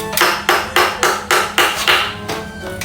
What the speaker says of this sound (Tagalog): konting pukpok lang dito no